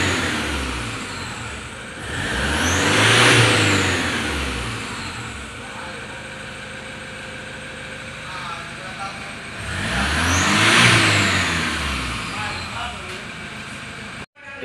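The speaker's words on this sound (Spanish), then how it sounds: "Y ahí tenemos el funcionamiento del motor." Toyota Hilux with a 1KD diesel engine running during turbo actuator diagnosis, a steady engine drone that swells twice into louder revs before settling back, with talk heard over it.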